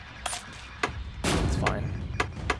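Gunfire in the Battleship video game: a few sharp cracks followed by a heavy sustained blast that rumbles and fades, with another pair of reports near the end.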